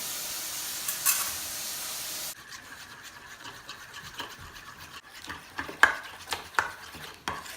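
A spoon scrapes and stirs dehydrated Honest Kitchen dog food for a German shepherd into a pasty, oatmeal-like mush, with soft wet scraping and clicks over a steady hiss, growing more irregular toward the end.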